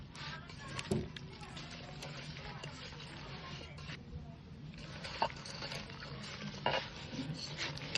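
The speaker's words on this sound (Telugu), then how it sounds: "ఇప్పుడు కలుపుకోవాలండి." Chicken biryani ingredients are stirred and mixed in a pan over heat, with soft sizzling and scraping under a few sharp clinks of a spoon against the metal, fairly faint and close.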